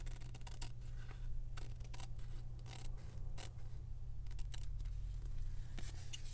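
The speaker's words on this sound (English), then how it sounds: "I'm gonna go ahead and trim this." Scissors snip through fabric tape in quick, close, crisp cuts, repeated in irregular bursts over a low steady background hum.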